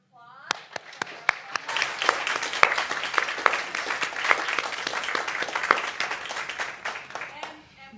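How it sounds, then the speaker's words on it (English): A room applauds the organisers at an empowerment training event for Jewish women with disabilities: crisp, uneven claps build into dense clapping, with a voice heard briefly at the start and end. "Let's just give a round of applause."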